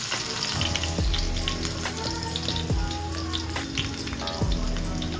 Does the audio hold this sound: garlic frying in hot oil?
yes